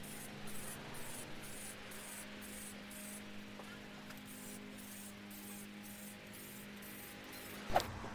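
Quiet, steady hiss of spray paint applied in coats to an aluminum car wheel rim, a soft continuous spray over a low background hum, ending with a brief sharp clink.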